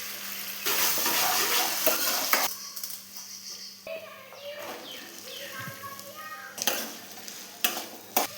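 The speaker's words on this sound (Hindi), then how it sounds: "2 चम्मच तेल में ये हमारी मुंगोड़ी, फिर एक बार रोस्ट करना है हमें" Mungodi roast in a little oil with garlic paste, sizzling in bursts while a spoon stirs and scrapes the pan, with clinks of utensils and gaps of quieter frying between strokes.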